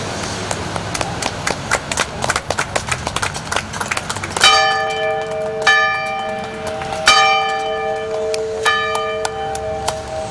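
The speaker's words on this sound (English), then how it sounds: "also got this bell for the museum" A ceremonial bell rings out at an outdoor Veterans Day ceremony, several loud, clear strikes each leaving a long ringing tone, after a run of lighter taps at the start.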